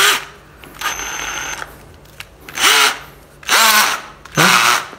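A Bosch-style electric drill running in hammer mode, several loud bursts of whirring motor with rattling impact, each spinning up and winding down, separated by short pauses.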